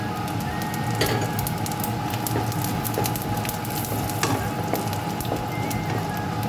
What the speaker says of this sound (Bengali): এই তেলের মধ্যে এখন আমি দুটো তেজপাতা, দুটো শুকনো লঙ্কা, অল্প কিছুটা গোটা জিরে ফোড়নে দিয়ে দেবো।